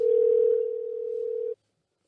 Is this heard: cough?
no